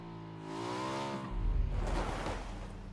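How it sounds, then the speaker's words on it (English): A vehicle in a video game comes up from behind, its engine rising in pitch as it nears and then roaring into a louder, broadband rush as it closes in, with no talk over it. "Another vehicle coming up behind us."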